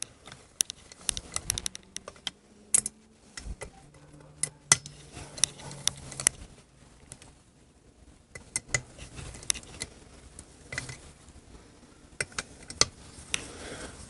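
Speed handle running down the bolts on Harley Shovelhead cylinder heads, giving scattered sharp metallic clicks and clinks in irregular bursts with quiet gaps between them.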